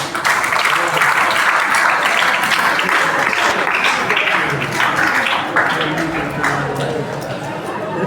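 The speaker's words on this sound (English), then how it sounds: "Let's welcome her with a big round of applause." Big round of audience applause welcoming a performer at a Teacher's Day school program, steady dense clapping mixed with crowd chatter and voices, easing slightly toward the end.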